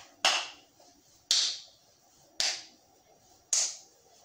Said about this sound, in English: we're going to clap in front and clap in back